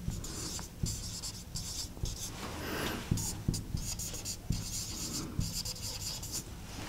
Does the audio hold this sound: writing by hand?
yes